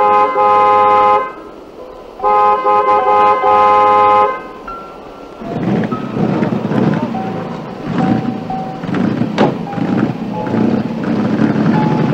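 A car horn honks in long sustained blasts, two loud toots separated by a short gap, followed by rumbling vehicle and outdoor noise in a 1973 Afrikaans drama film.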